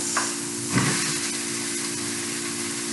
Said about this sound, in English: My onions started changing color, so I'm going to add half of our minced meat.